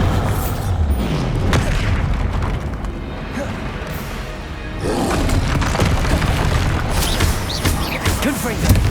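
Bombarda blasts in Hogwarts Legacy: loud, booming spell explosions with crashing debris, arriving in heavy bursts near the start and again in the second half, with voices shouting over the dense noise.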